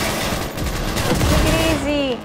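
Rapid bursts of automatic gunfire ring out in a Cyberpunk 2077 firefight, loud and close. The shots are mixed with game effects and overlapping voices.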